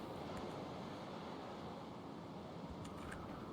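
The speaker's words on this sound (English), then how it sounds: "Got water coming in through here" Rushing water flowing into a channel in the beaver city-building game Timberborn, a steady broadband wash that runs continuously at moderate level, with no talk.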